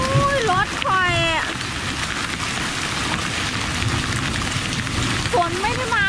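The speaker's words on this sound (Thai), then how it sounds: "ฝนตกอ่ะลูกเห็บมาเลยค่ะ" Heavy rain mixed with hail during a hailstorm pounds steadily on a hard surface, a dense continuous patter, with voices speaking briefly at the start and near the end.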